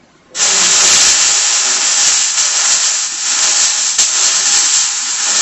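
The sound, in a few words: welding torch running steadily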